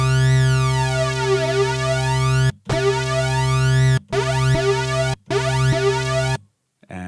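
A wonky synthesizer bass plays in four sustained phrases, each with a swooping, wompy envelope rise and sweeping pitch glides, loud and upfront, separated by short gaps.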